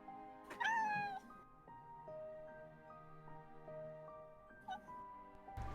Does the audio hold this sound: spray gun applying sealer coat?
no